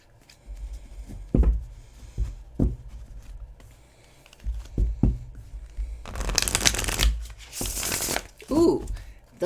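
A cat-themed tarot deck is shuffled in several bursts: soft taps and riffles, then a long crisp riffling rush and a final snap of cards settling.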